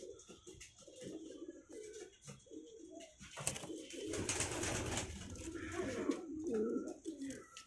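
Domestic roller pigeons, a black and brown pair at a nesting pot where the hen has just laid an egg, coo repeatedly in low throaty phrases, close and fairly loud, building to a fuller, more continuous cooing in the second half.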